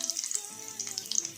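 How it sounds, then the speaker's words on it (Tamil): Dried red chillies frying in oil in a pan for pepper gravy, a steady light crackling sizzle with quick popping bursts, close and soft. "இது நல்லா வதங்கட்டும். வரமிளகாய் சேர்த்துக்கிறேன்."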